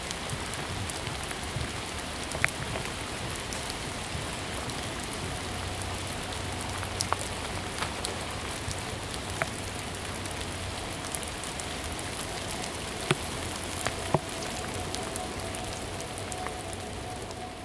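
Light drizzle falling in Ravenna Park, a steady soft patter of raindrops on surfaces with scattered closer drips, alone and even throughout without voices.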